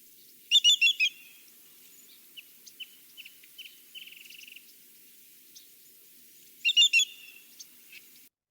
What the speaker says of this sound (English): They do make a very loud ringing call